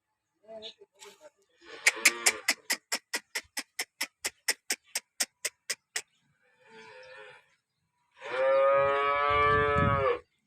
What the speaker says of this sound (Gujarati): હવે ગાય હું બતાવું તમને બીજા નંબરની ગાય